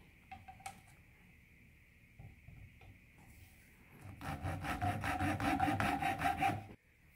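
A 5/16 inch wooden dowel rod being cut: a few light taps and scrapes at first, then a loud, close, rhythmic rasping saw stroke for about three seconds before stopping abruptly.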